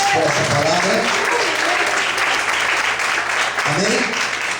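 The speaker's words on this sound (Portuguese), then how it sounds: "Você pode aplaudir ao Senhor nessa manhã por essa palavra?" A church congregation applauds during a morning service, a loud continuous clapping wash with someone speaking over it at the start and again near the end.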